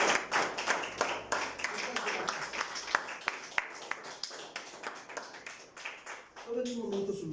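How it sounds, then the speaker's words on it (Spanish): A church congregation claps during a Thursday evening service, starting as a dense patter and thinning into sharper, spaced claps, with voices and sung tones coming in near the end. "Dale un fuerte aplauso al Señor"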